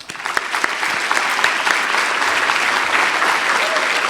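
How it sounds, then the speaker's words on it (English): Sustained applause from an audience at a conference's opening remarks and keynote session, a dense even patter of many hands clapping throughout, fairly loud and steady with no talk over it. "I do want to lead the first round of public applause and appreciation for their"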